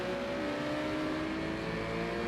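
Aston Martin and Porsche race cars roar past on a circuit, a steady, fairly distant engine drone holding a high tone throughout with no voices.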